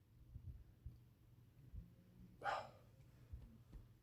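A single short, throaty burp from a person who had just eaten meatloaf, moderately close in a quiet room with a low background rumble, lasting a fraction of a second with no talk around it.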